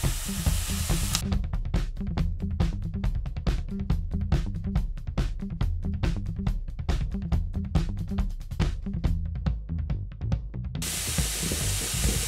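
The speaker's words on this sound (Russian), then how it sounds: "Лук стал полупрозрачный, а теперь можно добавлять морковку." Carrots added to translucent onions frying in a pan produce a loud, constant sizzle broken by rapid crackling spatters and stirring scrapes, with the hiss briefly swelling at the start and end.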